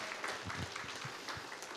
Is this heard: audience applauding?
yes